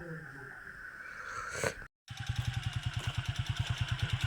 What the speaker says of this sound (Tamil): புல்லட் வண்டி எடுத்துட்டோம்.